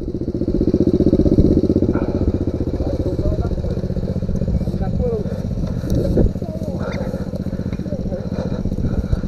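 A mini dirt motorcycle, a Pro Tork alongside a CRF, revs loudly and close on a mountain trail, its engine droning and rising under shouted talk.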